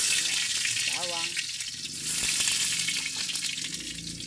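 Garlic frying in hot cooking oil, a steady bright sizzle that stays loud throughout, with a voice speaking briefly over it.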